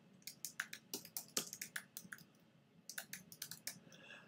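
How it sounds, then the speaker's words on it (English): Quick bursts of computer keyboard typing as a file name is entered, crisp close key clicks in two runs separated by a brief pause, fairly quiet with no talk. "So I am going to type in a name"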